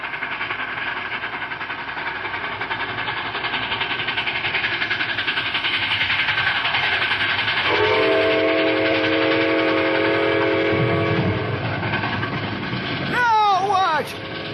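A train's steady whistle blows for several seconds over a rumbling background, growing louder as it nears, with some voices and bustle around it.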